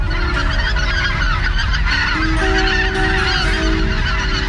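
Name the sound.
birds calling at Vente Cape bird-banding site, Curonian Lagoon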